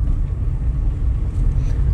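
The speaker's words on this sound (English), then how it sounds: "So we're driving along" A car driving slowly along a road inside Berg-en-Dal Rest Camp gives a steady, low engine and tyre rumble, close and fairly loud, with no talk over it.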